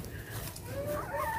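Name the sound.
chickens clucking in a chicken coop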